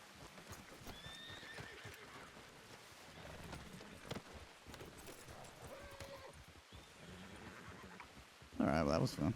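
Horses in a ranch role-play video game neighing and clip-clopping along at a brisk pace, hoofbeats steady under quiet talk, with a louder burst of sound near the end.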